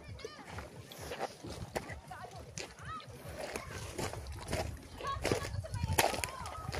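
People bathing and splashing in the sea off Burias Island, with irregular watery splashes and sloshing close by, mixed with lively voices and children talking throughout.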